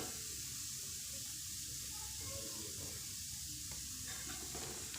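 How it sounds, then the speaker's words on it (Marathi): Shankarpali pastries fry in hot oil with a steady, dense sizzle and bubbling that carries evenly throughout, close and fairly loud. "हे बघा, मस्त तळले जात आहे."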